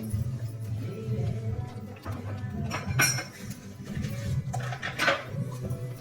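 A ladle stirs toor dal uppittu in a pan, producing soft scraping and a few metallic clinks against the pan at an irregular pace, close and fairly quiet.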